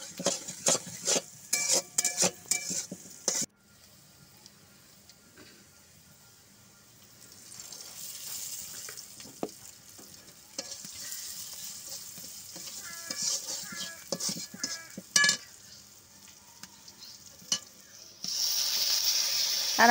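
Ground spice paste with turmeric stir-fried in a pan for a home lunch, with scraping spatula strokes and a sizzle that comes and goes, plus a short watery rush near the end; no voices.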